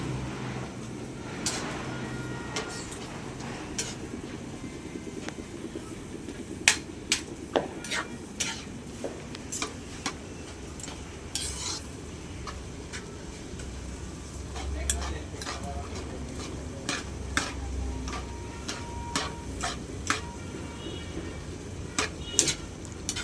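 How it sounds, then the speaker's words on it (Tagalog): Pancit noodles are cooked in a pan with a faint sizzle underneath, while a utensil scrapes and clinks against the metal in irregular strokes; a voice talks now and then. "niluluto na po yung pansit"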